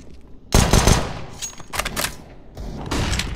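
Rapid gunfire bursts from Counter-Strike: Global Offensive on the Dust2 map, loud automatic-weapon volleys in several close clusters with brief pauses between them, with no talk over them.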